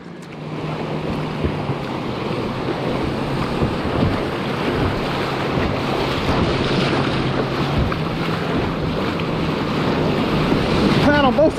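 Kayak out on a river, steady rushing water and wind buffeting the mic throughout, loud and continuous with a faint voice now and then.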